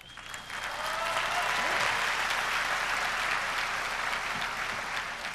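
An audience at a business gathering claps their hands together in a steady, dense wash of applause that swells quickly and holds, moderately distant and without speech.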